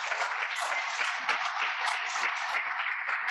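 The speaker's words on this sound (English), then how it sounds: "Round of applause, please." A room full of people applauds, a thick continuous patter of many hands clapping at steady volume throughout.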